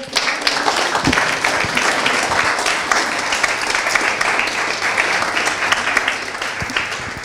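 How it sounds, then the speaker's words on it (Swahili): Sustained audience applause at an event, dense steady clapping from many hands filling the room at a loud, even level from start to finish, with no clear speech over it. "Tuongeze hayo makofi."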